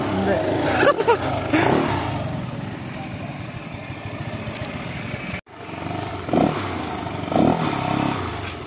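A fuel-injected Yamaha Mio 4V scooter with a tuned engine and an NMAX stock exhaust pipe idles and revs up loudly in short throttle blips. People talk over the engine.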